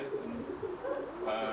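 Tippler pigeons in a loft give soft, low, throaty coos in a few rolling phrases, close and fairly quiet, with faint room background.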